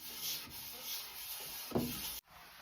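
A wood plane blade is rubbed on a sharpening stone with steady pressure, giving a soft, close scraping hiss in a few long strokes, with one sharper scrape near the end before it cuts off.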